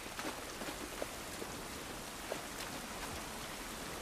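Steady rain falling in the video game The Last of Us Part 1, a soft continuous hiss of drops on outdoor surfaces with faint scattered patters, heard alone with no talk.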